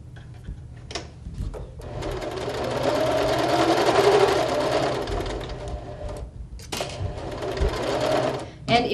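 A sewing machine stitches a seam in bursts, the motor whirring steadily for several seconds between short pauses where the needle stops and the fabric pivots at a corner, close and loud over a faint low hum.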